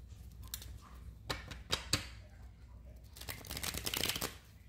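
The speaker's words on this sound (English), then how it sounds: "This is the first shuffle." Tarot cards being shuffled by hand, a series of soft riffling and snapping bursts with quiet pauses, building into a denser flurry near the end, close and fairly faint.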